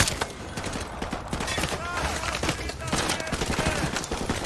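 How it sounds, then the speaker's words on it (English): A squad shooting from behind crates in Call of Duty Modern Warfare Remastered, a video game: dense, continuous automatic gunfire with overlapping shots from several weapons, loud and close, with voices mixed in under the firing. "The squad hunkers down behind some crates on the right and begins shooting"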